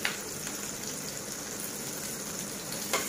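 Chopped garlic fries in a pan for a simple pasta, giving a steady close hiss of sizzling oil that carries on without a break.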